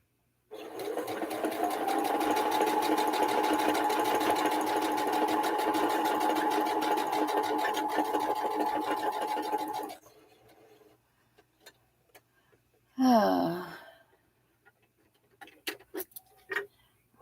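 Sewing machine stitching red, white and blue swap blocks onto a quilt backing, a steady close whir running about ten seconds, then stopping, followed by scattered small clicks and one brief rising squeal.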